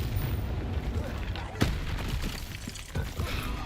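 The Bombarda explosion spell in Hogwarts Legacy goes off as one sharp booming blast partway through, set against dense game rumble and clatter, with a smaller thump trailing after.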